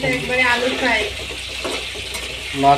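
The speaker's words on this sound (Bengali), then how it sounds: "এক ঘন্টা পরে তেলের সঙ্গে ভাজা হচ্ছে" Marinated chicken fries in oil in a pan, a close sizzle mixed with stirring clatter, heard under a person talking throughout.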